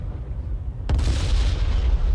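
In the video game IL-2 Battle of Stalingrad, a bomb from a Pe-2 dive bomber hits a tank: a sudden heavy boom erupts partway through, its deep rumble swelling and lingering over a constant low background roar.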